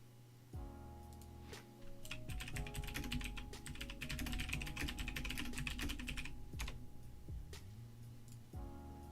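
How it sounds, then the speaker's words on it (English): Rapid computer keyboard typing clatters steadily at close range for several seconds, with clustered keystrokes over a quiet background hum and a soft tonal bed, pausing briefly near the end. "That is where all of that typing comes from, guys."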